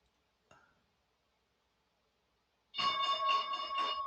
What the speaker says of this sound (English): Bell's going to ring here in 15 seconds.